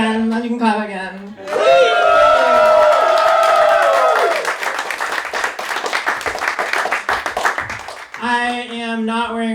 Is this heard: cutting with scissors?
no